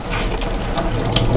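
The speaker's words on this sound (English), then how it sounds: "So you may have to run a little bit of water over it to loosen it up." Steady rush of tap water running over an ice lantern mold, continuous and close, with no voices.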